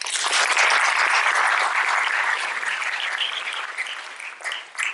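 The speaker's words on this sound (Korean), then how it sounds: "박수 부탁드리겠습니다" An audience claps after a seminar presentation on personal branding through social media, a loud, dense, sustained round of applause that slowly thins out near the end.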